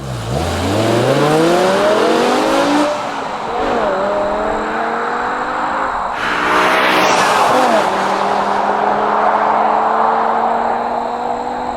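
A BMW E60 M5's engine revs up repeatedly, its exhaust note rising and falling through several loud pulls, close by with some roughness in the tone.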